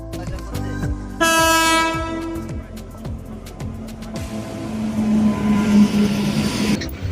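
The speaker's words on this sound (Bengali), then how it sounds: "তো আমাদের ট্রেন চলে এসেছে আর আমরা ট্রেনে উঠেও পড়েছি" The Kamrup Express arrives at a station with a steady rhythmic clatter of wheels and a loud, sustained horn blast early on. The rumble of the train rolls on close by afterward.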